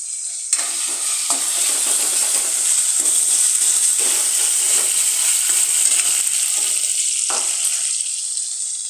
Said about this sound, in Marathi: ती पूर्ण ढवळून घ्यायची आहे. त्यात थोडंसं अजून तेल टाकायचं आहे.